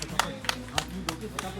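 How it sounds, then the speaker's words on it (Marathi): Villagers clap in welcome, with about five sharp claps spaced in an even rhythm over a low background murmur, fairly close. "टाळ्या वाजवून आमचं स्वागत केलेलं आहे."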